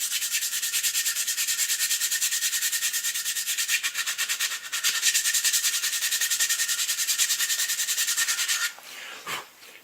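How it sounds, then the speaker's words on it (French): Steady rhythmic rasping of sandpaper on the wooden front grip of a rifle, quick back-and-forth strokes close and even for most of the span, ending with a few slower scrapes. "j'ai démonté également la partie avant du fusil, la poignée avant, pour la poncer également et que tout soit uni"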